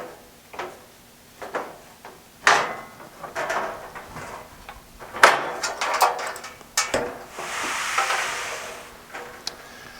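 The removable door of an Express wall-mount equipment enclosure is handled, giving a series of irregular close knocks, clunks and scraping slides spread over several seconds, then a longer hissing rub near the end, with no talking.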